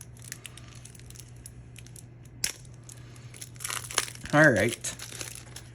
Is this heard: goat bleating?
no